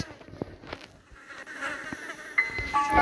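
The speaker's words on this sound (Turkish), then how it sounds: "Sinek mi var burada?" A fly buzzes faintly in the Granny horror video game, a thin, wavering drone that comes and goes over quiet background sounds and grows a little louder toward the end.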